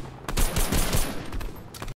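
A short, loud burst of rapid gunshots from the video game Fortnite during Season 7, several quick cracks fired close together over about two seconds.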